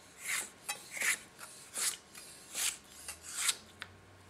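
A 230 mm Fernandez gyuto chef's knife with a 15-degree edge rock-cuts on a cutting board, giving about nine quick, rhythmic scraping taps close up, with no talking.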